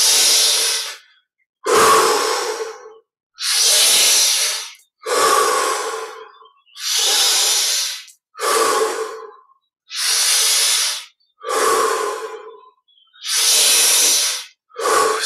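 Deep, rhythmic breathing during a guided Yogoda meditation: about nine long, loud, airy breaths close to the microphone, each separated by a short silent pause, with no talking.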